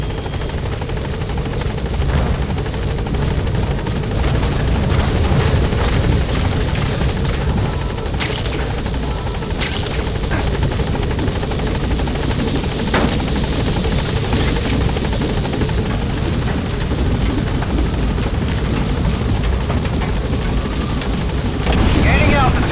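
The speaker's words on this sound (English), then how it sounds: "Support helicopter has arrived." A support helicopter arrives in Metal Gear Solid V: The Phantom Pain, its steady rotor roar and engine drone filling the whole scene loudly, with rumbling game ambience beneath and a voice speaking over it.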